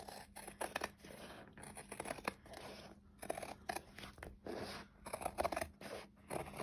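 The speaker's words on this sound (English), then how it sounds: "just cut it fairly close to the stitching, but not right on it" Scissors snipping through fabric close to a line of stitching on a decoupaged napkin craft project, a run of quiet, close crunchy cuts with brief pauses between them.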